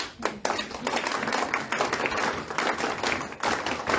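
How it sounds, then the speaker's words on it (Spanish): Audience applause at a political celebration for the Day of Fraternity 2025 in Paterson, steady dense clapping sustained for about four seconds at moderate distance. "Un aplauso para la esperanza."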